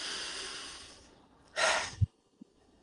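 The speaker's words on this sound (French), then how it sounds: "Reprenez une profonde respiration" A deep breath during a guided meditation: a long, soft, close inhale that fades out, followed by a short, stronger breathy exhale and a faint click, with no speech.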